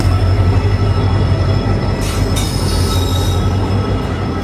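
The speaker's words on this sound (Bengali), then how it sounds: "কামাখ্যা থেকে ছেড়ে দিল আমাদের ট্রেন" The Saraighat Express rolls along the tracks near Kamakhya and Guwahati, giving a loud continuous rumble with high metallic wheel squeals rising briefly, close and steady.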